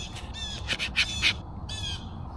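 Crow-like bird calls near a camper at breakfast around sunrise, a few loud harsh caws in quick succession, then a pause and one more call, over a steady background hum.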